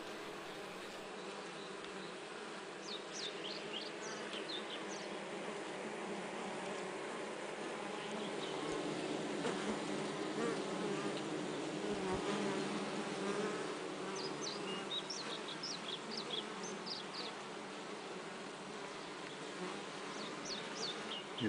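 A honey bee colony inside a working hive during honey season, picked up by a microphone set deep in the hive, hums in a continuous, even drone that swells slightly midway, with faint high chirps scattered over it.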